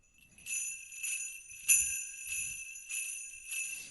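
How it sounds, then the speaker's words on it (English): Isolated sleigh bells from the multitrack of a Christmas pop song shake in a regular pulse about every half second, bright and jingling, heard alone without other instruments. "These sleigh bells are going to be great, though."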